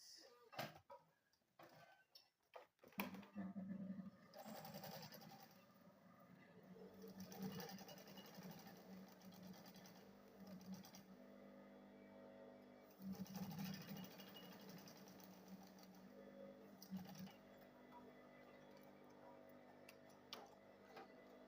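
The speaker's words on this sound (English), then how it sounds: "Then I'll go ahead and sew it." A sewing machine stitches fabric for a handbag, starting after a few seconds of handling noise and then running in a steady, close mechanical rattle with brief pauses and restarts.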